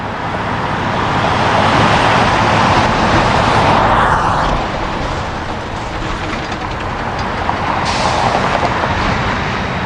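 A semi truck passing on a road. A loud, broad roar swells and then fades, with a hiss that rises and falls in the middle.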